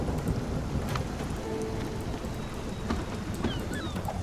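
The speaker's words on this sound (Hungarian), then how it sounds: "ezt a vihart hagyjuk most ki" A thunderstorm in the video game Spiritfarer: steady, dense rain with low rumbles of thunder, heard continuously at an even level with no talk.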